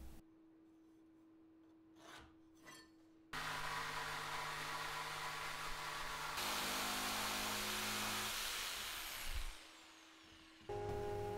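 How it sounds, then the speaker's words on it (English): A jigsaw cuts roughly through a chunky piece of oak, a loud, steady rasping buzz running for several seconds after a quiet start with a couple of brief knocks, then cutting out before a machine hum returns. "I'm just going to roughly cut it down to the length I need using the jigsaw"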